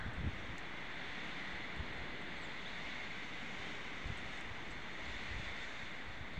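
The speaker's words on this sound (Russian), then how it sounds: "Вот так шумит сосна." Strong wind roars steadily through a pine tree during a winter snowstorm, a dense, unbroken rushing hiss with gusty buffeting on the microphone and no voices.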